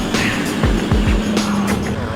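A modified rock crawler car speeds past with a rough engine roar and a few quick low whooshes, loud and close throughout.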